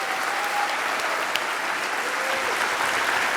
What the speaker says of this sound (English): let's give a warm round of applause for your host, Geoffrey Hinton.